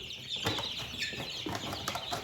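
Young chickens in a brooder cluck and peep close by, soft, irregular calls and small rustling, with no voices.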